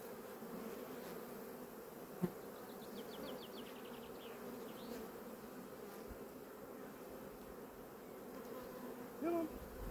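Honey bees buzz steadily around an expanding beehive outdoors, a continuous insect drone with a few individual bees passing close, plus a brief knock and a short rustle near the end.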